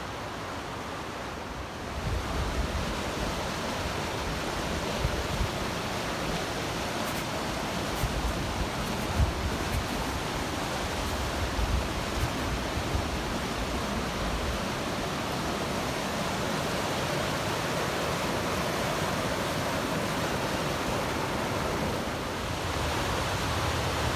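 Falls Creek rushing along its bed, a broad, continuous roar of fast-moving creek water, loud and steady throughout with no voices.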